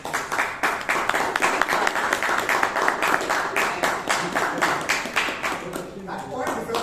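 Members at a Bangalore Toastmasters meeting applaud a speaker's point, rhythmic, pulsing claps at moderate loudness that continue for several seconds and thin out near the end, with speech heard alongside.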